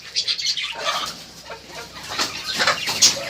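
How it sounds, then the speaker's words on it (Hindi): Chickens cluck and chatter softly nearby in a backyard bird-breeding setup, a steady jumble of short calls with no one talking. "ये 3 मुर्गे निकले हैं"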